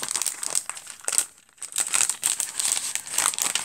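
Paper crinkles and crumples close up in quick, irregular bursts, with a brief pause before the rustling resumes.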